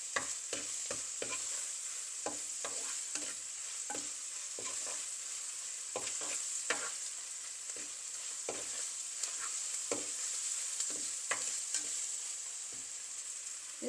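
Onion and baby jackfruit pieces sauté quietly in a pan for a jackfruit masala curry, a soft continuous sizzle broken by repeated light clicks and scrapes of stirring.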